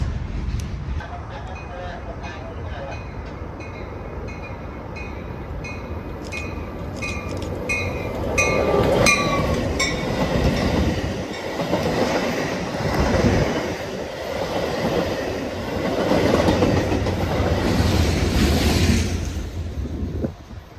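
Inbound Metra commuter train 2708, pushed by locomotive 413, rolls past at a rail line near Bensenville Yard, a steady rumble with rhythmic wheel clatter and a rising, broad roar as the cars go by, with speech over it.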